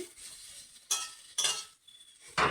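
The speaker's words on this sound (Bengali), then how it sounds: "এখন আমি একটু মিশিয়ে দিই ঠিক আছে একটু নেড়ে ফেলে দিই" A spoon stirs a mashed potato mixture in a pan over a low flame, giving three or four distinct scraping, clinking strokes separated by brief pauses, close and clear, with no talking.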